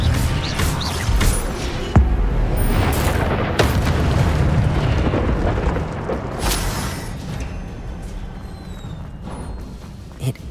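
Incendio fire spell cast in the Hogwarts Legacy video game: a loud whooshing burst of flame with booming impacts, fading into a lower rumble before a final small pop.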